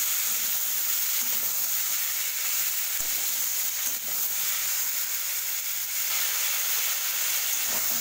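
Malabar spinach leaves sautéing in a pan for a Bengali pui shak ghyat, giving a steady, even sizzling hiss that runs unbroken throughout at moderate loudness, with no talking.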